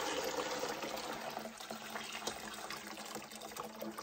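Water pours steadily into a measuring container to fill one gallon during a dishwasher detergent test, a continuous close rushing and trickling with no talk over it.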